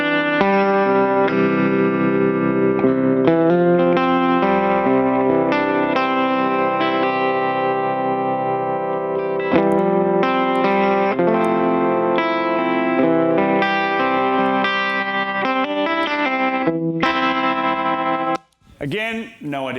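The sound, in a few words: guitar through effects pedals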